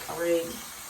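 Tap water runs steadily as a brush is rinsed under it during a skin care routine, a soft, continuous hiss that stays faint and close throughout the short moment.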